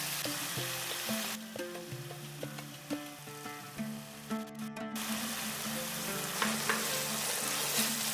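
Spice paste for a fish curry is stir-fried in a pan, giving a steady sizzle and the scrape of stirring over several seconds, with background music playing throughout.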